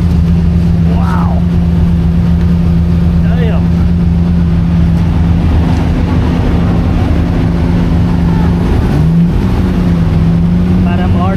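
RWB Porsche sports cars drive past at a car gathering in Cambodia, with a loud, steady engine drone rising and falling as they pass close by, under excited talk.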